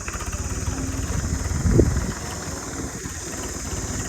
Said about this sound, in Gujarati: ગૌતમભાઈ ટ્રેક્ટર લઈને આવ્યા છે પાહ મારવા માટે